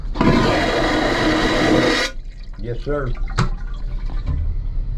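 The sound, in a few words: vacuum flush toilet flushing on cruise ship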